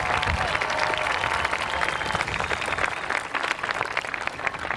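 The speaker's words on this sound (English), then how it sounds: "A round of applause for those who've helped you get here today." Sustained applause from a graduation ceremony audience, a dense, steady wash of many hands clapping at an even level throughout, with no talk above it.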